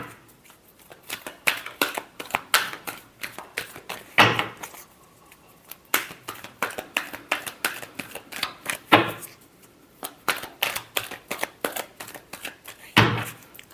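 Tarot cards being shuffled, a fast run of crisp papery riffles and taps in repeated bursts with short pauses between, close and moderately loud, no talking.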